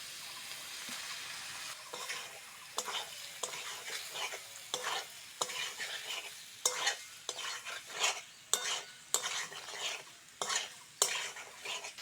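Fried eggs stirred into a soybean and potato curry cooked down with spices, a spoon scraping and clattering through the pan in repeated strokes over a continuous sizzle, the rhythm quickening toward the end.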